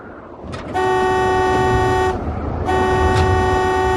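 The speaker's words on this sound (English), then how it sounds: "Here, you watch, let me honk." A car horn blares in two long, loud blasts, the first about a second and a half, the second following after a brief gap, over rumbling background noise.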